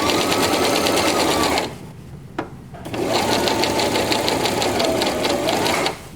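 A sewing machine stitches along an existing seam on fabric in a fast, even mechanical chatter, pausing briefly with a single click before running again steadily at close range.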